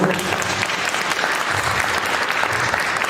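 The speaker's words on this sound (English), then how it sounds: "I would say they deserve a round of applause from everyone." Sustained applause from an audience at a school board meeting, dense and steady for the whole span with a faint murmur of voices mixed in.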